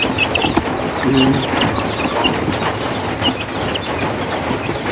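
Sick chicks that have started eating again peep and cluck softly, with more clucking from nearby fowl over a busy background.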